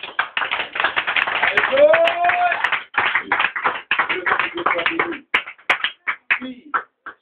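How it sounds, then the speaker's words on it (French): A church congregation claps and acclaims in worship, with dense, rapid clapping and raised voices filling most of the passage, broken by short pauses near the end. "On va acclamer le Seigneur Jésus."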